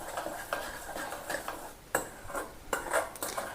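Spoon stirring nylon khaman batter in a bowl, soft scraping strokes with light clinks against the side, repeating at a steady pace, quiet and close with no talk.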